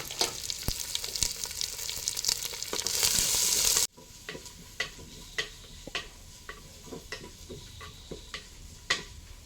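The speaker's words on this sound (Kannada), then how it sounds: "ಇವಾಗ ಈರುಳ್ಳಿಯನ್ನು ಚೆನ್ನಾಗಿ ಫ್ರೈ ಮಾಡಬೇಕು." Onions fry in a pan after mustard seeds pop, with a loud, bright sizzle that suddenly drops to a quieter crackle, punctuated by repeated spoon taps and scrapes against the pan.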